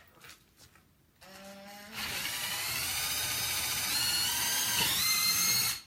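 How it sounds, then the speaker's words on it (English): A power drill, used during a chalk-art craft class, whirs loudly and continuously after a brief quieter start, its pitch shifting slightly as pressure is applied. "Make sure that when you're drilling that you press firmly so that it doesn't move."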